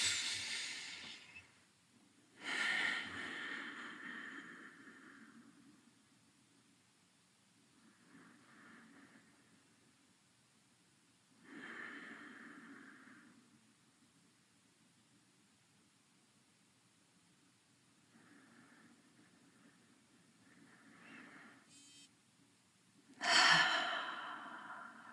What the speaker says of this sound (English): 3 deep breaths in your own time.